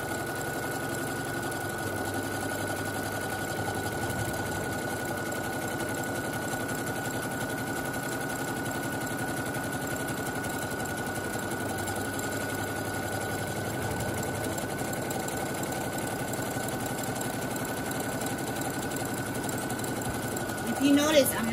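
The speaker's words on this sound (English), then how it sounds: "So now I'm going to go ahead and sew." A Brother SE1900 sewing machine stitching a buttonhole on fabric, a close, steady mechanical whir with a rapid needle rhythm running unbroken, with a short clatter near the end.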